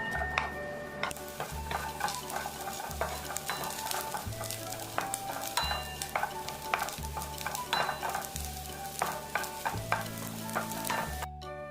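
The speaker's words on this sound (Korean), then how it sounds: "약불에 달궈진 팬에 식용유 약간을 두르고 썰어놓은 마늘을 볶아줍니다" Steady sizzling of sliced garlic frying in a little oil in a pan over low heat, with utensil clinks and stirring scrapes throughout, close and continuous.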